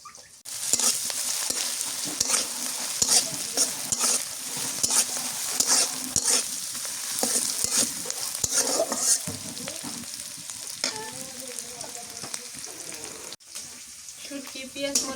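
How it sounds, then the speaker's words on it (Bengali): Dried fish (shutki) with onion and chilli sizzles and crackles in a pan while being stirred, with frequent scraping strokes of the spatula over steady frying hiss, close up and fairly loud. "শুটকি দিয়ে ভালো করে কষাই নিই।"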